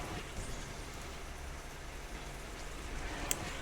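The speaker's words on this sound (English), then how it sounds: "I don't mind the rain noises." Rain sound effects in the video game Black Beacon, a steady, even hiss of falling rain at moderate level with one faint tick near the end and no voices.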